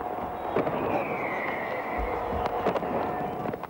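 New Year 2000 fireworks over Moscow's Red Square: a steady crackling roar of distant bursts, a rising whistle and a few sharper pops standing out near the end.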